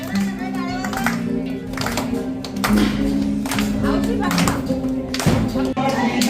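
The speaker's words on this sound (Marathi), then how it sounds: "सगळ्यांना टाळ्या वाजवा" Rhythmic hand clapping from a group keeps time beneath loud chanting voices and music at a colony Ganpati installation celebration, steady throughout.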